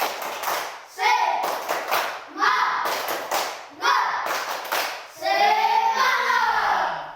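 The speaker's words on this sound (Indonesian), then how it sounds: "Kalau begitu kita berdiri tepuk mantap, Bro. Tepuk semangat." Classroom students doing a 'tepuk semangat' clapping routine, bursts of rhythmic group clapping and thumps broken by short pauses, with children's voices chanting along between and over the claps.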